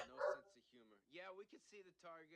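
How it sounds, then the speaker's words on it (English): A pet dog barks and yips in short bursts close by, mixed in with people talking indoors. "my dog's going crazy"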